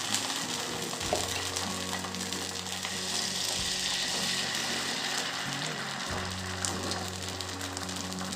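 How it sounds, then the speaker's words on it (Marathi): Ghee sizzles and crackles on a heated pan in a constant dense hiss, close and fairly loud, while a low hum sits beneath it and no one speaks. "तापलेल्या पॅनवर मी आता थोडे जूक तूप टाकून घेते आहे"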